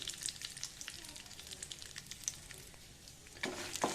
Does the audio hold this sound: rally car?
no